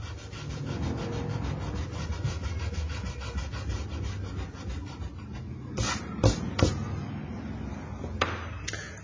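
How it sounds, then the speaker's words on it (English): An eraser rubs back and forth over a pencil line on a technical-drawing sheet, a close, steady scratchy friction for several seconds, followed by a few sharp taps and knocks near the end. "Let's just rub that out."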